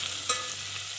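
A spoon stirs onion, carrot, potato and chili frying in a pot for khichdi, one quick scrape over a steady close sizzle, no voices.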